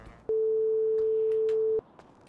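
Single steady phone ringback tone sounding once for about a second and a half, clear and alone, while a call goes unanswered.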